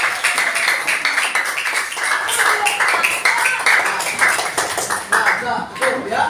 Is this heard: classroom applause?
yes